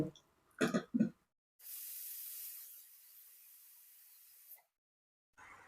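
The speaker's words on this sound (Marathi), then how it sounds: "आता याच्यावरती झाकण लावून आपण दोन शिट्ट्या काढून घेऊया" After a couple of coughs, a pressure cooker whistles with a sharp burst of hissing steam for about three seconds, then settles into a softer, steady hiss before stopping.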